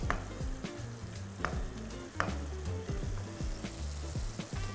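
Liquor burns off in a pan over a bright, high flame while cooking bucatini alla marchigiana, a close, steady crackling sizzle with sharp pops recurring every second or so.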